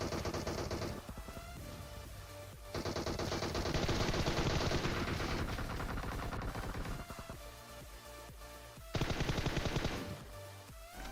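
Sustained automatic gunfire from the PUBG Mobile video game, with loud rapid bursts of shots that stop briefly and resume, with no talk over it.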